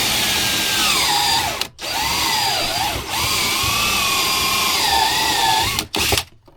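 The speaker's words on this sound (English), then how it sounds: "I'm going to start by drilling a 3/4 hole for that fuel pickup" A power drill cuts a 3/4 inch hole in a fuel tank for a fuel pickup. The high motor whine stays loud and close and rises and falls in pitch as the bit bites, with two brief pauses.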